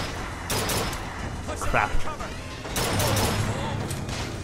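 Rapid gunfire bursts in BioShock Infinite aboard Comstock's airship, loud broadband shots in two clusters with mechanical clanks, under a brief spoken exclamation.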